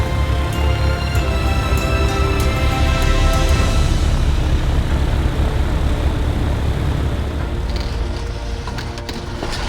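Small aircraft or racing drone propellers drone loudly and continuously with a dense buzzing roar and steady engine tones, close by and fading slightly toward the end.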